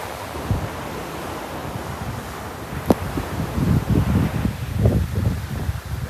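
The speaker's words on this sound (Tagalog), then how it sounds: "High tide." Ocean waves wash ashore at high tide on Bolabog Beach, Boracay, a steady broadband roar under wind noise on the microphone, swelling louder in the second half with repeated surges and one sharp brief crack near the middle.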